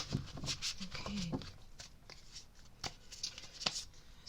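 Tarot cards riffle and slap together in short bursts of shuffling, close and quiet, with brief pauses between the flurries.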